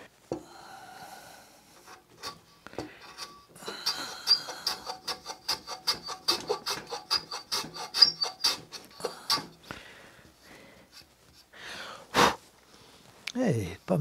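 A low-angle Dictum palm block plane cutting end grain wood, making a series of quick, close scraping strokes in an uneven rhythm, quiet and dry, with a few louder rasps near the end.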